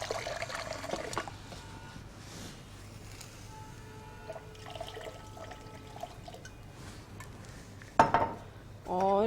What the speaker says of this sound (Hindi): इसमें मैं मज़ीद पानी शामिल करूँगी।